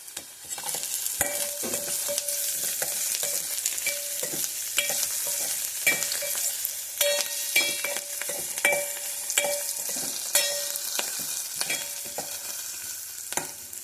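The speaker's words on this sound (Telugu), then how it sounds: "ఇలా ఫ్రై అవుతుంటే ఈ మధ్యలో ఆయిల్" Carrot and curry leaves fry in hot oil with a steady bright sizzle, punctuated by frequent clinks and scrapes of a spoon stirring the pan for about fourteen seconds.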